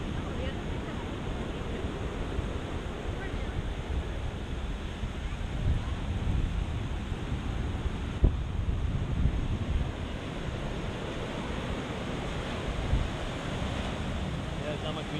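Ocean surf washes steadily onto a Florida beach, a continuous low rushing roar heavily buffeted by wind across the microphone, fairly faint and unbroken throughout.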